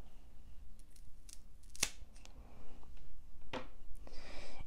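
Monstera Albo Borsigiana stem cut at an angle with scissors or shears, a few sharp close snips among light rustling of plant material.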